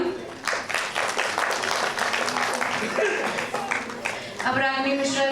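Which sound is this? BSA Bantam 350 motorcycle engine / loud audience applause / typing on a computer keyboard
loud audience applause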